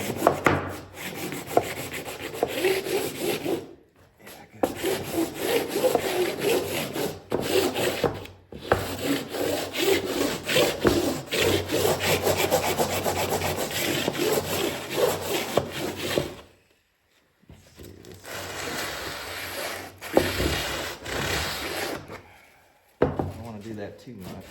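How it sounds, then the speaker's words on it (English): Sandpaper wrapped on a 2x4 block rubbed by hand along a wooden barn door, with long rhythmic rasping strokes up close, stopping for brief pauses and once for a longer gap. "Not too much sanding."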